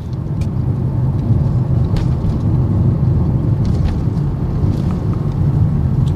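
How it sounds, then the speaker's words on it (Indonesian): Steady tire road roar inside the cabin of a Honda All New BR-V at 50 km/h, with the cabin and front underbody sound-deadened: a continuous, even low rumble throughout, with no talking. "Suara ban sudah benar-benar jauh berkurang."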